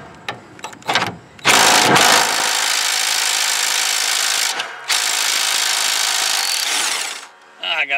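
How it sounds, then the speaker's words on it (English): A small impact wrench works a 19 mm nut on a John Deere LA135 lawn tractor, a loud, close, sustained buzzing rattle in two long runs after a few brief knocks. "it's just a little impact"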